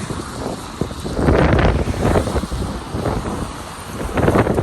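Gusty wind buffets the microphone while crossing Trinity Bridge in Saint Petersburg, a steady broadband roar swelling in loud gusts with low rumble, alone without talk.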